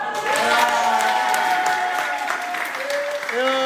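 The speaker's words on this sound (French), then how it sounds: "On peut applaudir" Audience applause fills a room, dense and loud, while voices call out and talk over the clapping throughout.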